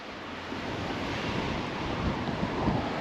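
Strong wind roars and buffets the microphone in a continuous, loud rush with gusty swells, outdoors in Châteauneuf-du-Pape, France.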